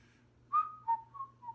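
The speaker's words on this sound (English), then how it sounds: "there's a little whistle there." A person whistles a short melodic phrase of a few sustained notes, clear and close, with no talking over it.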